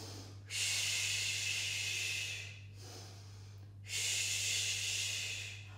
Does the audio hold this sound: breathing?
yes